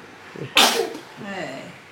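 One sharp, close sneeze bursts out suddenly, followed by faint voices speaking quietly around it indoors.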